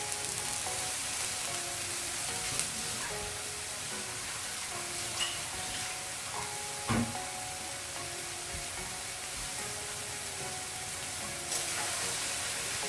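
Brinjal pieces fry in a pan with a continuous soft sizzle and faint crackling, plus occasional clinks and scrapes from stirring, close by with no talking.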